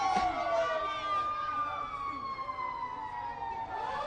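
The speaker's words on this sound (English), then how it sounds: "And you hear all the sirens coming up." Several wailing police and emergency sirens at an MLK parade rise and fall over each other, overlapping continuously and sounding moderately close.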